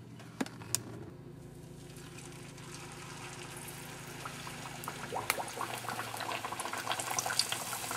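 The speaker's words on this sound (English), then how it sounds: "when deep frying this flatbread, you have to be really careful" Luchi flatbread deep frying in hot oil, a steady bubbling sizzle that builds and grows busier over several seconds, with a few sharp clicks near the start and no voices.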